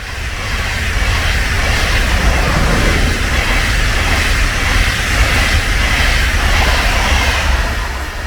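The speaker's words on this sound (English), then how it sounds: "That was the ICE2 train on the way northbound." An ICE 2 high-speed train rushes past close by near Petershausen, Germany, a steady loud roar with broadband rumble and hiss holding for several seconds.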